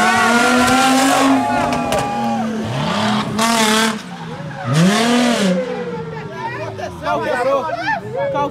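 A drift car runs at high speed during a drift championship, its engine rising and falling in loud sweeping passes with tire squeal, under steady crowd babble and close talking.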